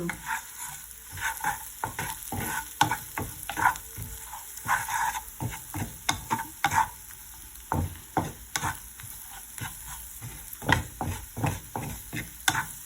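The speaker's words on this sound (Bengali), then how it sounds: "আমি এখন এগুলোকে পিঁয়াজের সাথে মিক্স করে" Onions fry with chili, turmeric and cumin powder while a spoon stirs them, producing a rhythmic run of close scraping strokes over a soft sizzle, with no voices.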